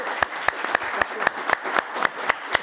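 A small audience claps for the members of a game convention panel, with a handful of distinct, close claps ringing out in a loose, regular rhythm over a soft bed of lighter applause.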